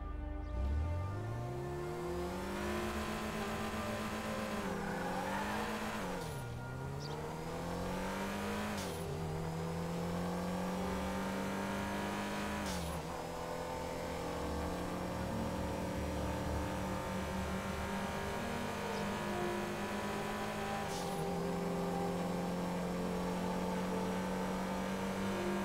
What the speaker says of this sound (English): Now I'm going to go ahead and rev the car out all the way, so I'm going to hold my W key down while holding my handbrake.